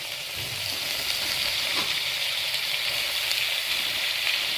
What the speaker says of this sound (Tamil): அதெல்லாம் நல்லா ஒன்று சேர நல்லா வதக்கணும்.